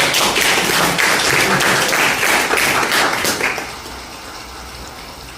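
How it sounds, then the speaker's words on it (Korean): Clapping from a seminar audience fills the first few seconds loud and dense, then tapers off quickly, leaving quiet room tone. "우리 이동호 단장님 박수 한번 보내주십시오."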